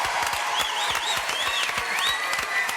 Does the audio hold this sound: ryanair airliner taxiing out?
no